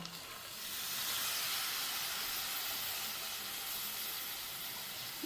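Chana dal tipped into hot oil with spices in a home kitchen sets off a steady, loud hissing sizzle that swells within the first half second and holds evenly to the end.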